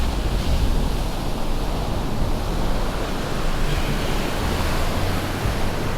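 Atlantic Ocean waves on the Portuguese coast near Figueira da Foz and Costa Nova, a steady, loud wash of surf with wind rumble, continuous and without speech.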